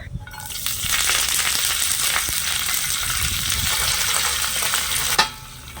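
Chopped green chillies and curry leaves crackle and sizzle loudly in a hot oil tempering, a dense, steady spluttering fry that stops abruptly near the end.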